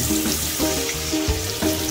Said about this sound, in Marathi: तेल आणि हिंग टाकलंय फोडणीला